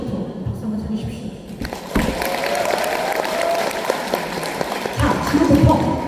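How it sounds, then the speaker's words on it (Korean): An audience at a health product presentation claps for the Top Shape diet supplement, a dense spread of applause that swells after the first two seconds, with some thuds and possible voices mixed in near the end. "탑쉐이프 박수 한번 쳐주십시오."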